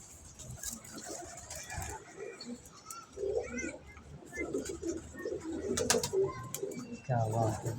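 Pigeons coo in soft, intermittent bursts close by, mixed with faint wing flutters and rustling while people talk quietly in the background.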